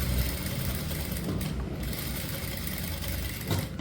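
A sewing machine stitching a blouse neckline runs steadily and fairly close, a continuous mechanical whir with a slight rattle and no pauses throughout.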